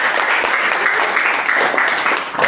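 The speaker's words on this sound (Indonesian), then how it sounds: "Beri tepuk tangan." Audience applause at a school teaching performance assessment in Jakarta, dense, steady clapping from many hands, loud and close, lasting throughout with a slight fade at the end.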